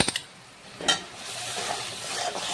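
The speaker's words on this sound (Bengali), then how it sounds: "সব কিছু আমি একটু কষিয়ে নিয়েছি" Spices such as ground coriander, cumin, turmeric, salt and Kashmiri chilli powder sautéing in a pan for a chhana (paneer) curry, with a soft steady sizzle and a couple of brief stirring scrapes, no talking.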